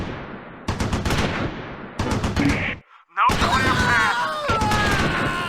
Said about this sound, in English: The mortar is laying a smoke screen to blind the Panther.